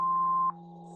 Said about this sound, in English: Please leave the message after the beep.